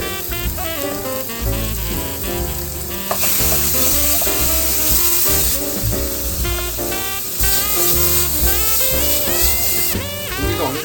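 Pork belly with peperoncino sizzles steadily in a pan for a rosé pasta, a dense, continuous frying hiss with stirring, heard under prominent background music throughout.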